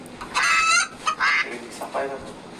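Loud honking and quacking from ducks and chickens close by, several harsh calls in bursts, with a voice speaking briefly.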